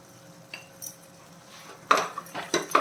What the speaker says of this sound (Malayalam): ഉപ്പും കൂടെ ഇട്ട് നല്ല രീതിയിലൊന്ന് മിക്സ് ചെയ്യാം